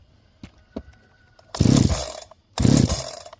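A Farmertec Holzfforma G372 XP chainsaw with a Walbro HD12 carburetor being started: two quick starter-cord pulls, then the engine fires in two loud, raspy bursts close by.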